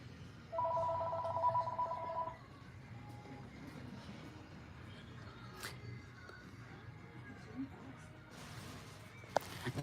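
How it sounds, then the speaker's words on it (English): An old-school Mario Kart toy phone rings in a short bright electronic trill near the start, then stops, with faint room noise and shuffling through the rest of the clip. "Like they have an old school Mario Kart phone. Yeah, the phone ringing, exactly."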